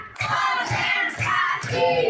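A school class claps in unison during a counting clap routine, four sharp group claps in an even rhythm, close and loud, with no talk.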